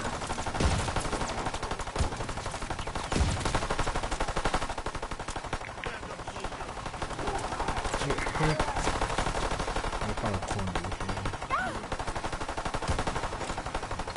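Dense, continuous gunfire in a zombies video game, with shotgun blasts and rapid shots packed together loud and close with almost no pause.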